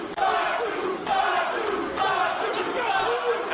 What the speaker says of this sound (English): this crowd comes alive for Jacob Fatu, at least in this moment